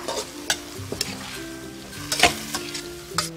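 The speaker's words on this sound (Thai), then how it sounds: "พอหมูเริ่มสุกแล้วใส่หน่อไม้ส้มของเราลงไปค่ะ ผัดให้เข้ากันนะคะ" Minced pork and sour bamboo shoots stir-fried in a pan, with a continuous sizzle under repeated scraping and clinking strokes from the stirring utensil, close and moderately loud, with no talk.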